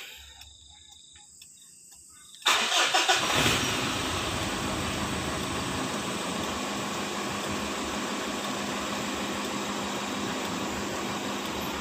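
Mitsubishi Triton or Pajero Sport engine starting after quiet: a sudden crank and catch, then a steady, close idle that holds evenly to the end.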